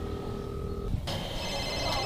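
Ringback tone on an outgoing telephone call: a steady electronic ring holds for about a second, then breaks off into a brighter, shifting electronic tone over a constant low background hum.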